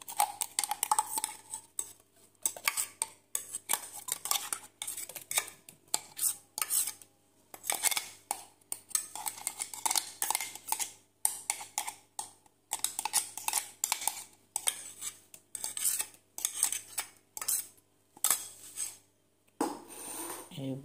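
A spoon repeatedly scrapes and taps ground fish kebab paste out of a mixer jar into a bowl, a steady run of close metallic clinks and scrapes with brief pauses and no talking.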